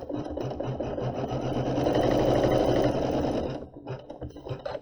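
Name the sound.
embroidery sewing machine stitching applique fabric in the hoop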